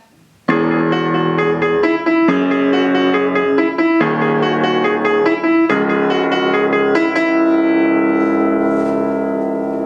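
Sustained piano chords played in octaves, part of the Arkham City theme, a steady series of full, ringing harmonies with pedal sustain, loud and close, no voices.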